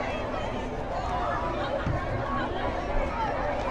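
A high school football crowd at a Friday night game between Abbeville and St. Mary's, a steady murmur of chatter and cheering heard at a distance under a continuous babble.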